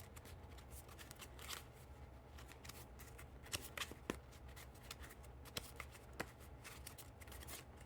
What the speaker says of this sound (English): pretty normal packet cuts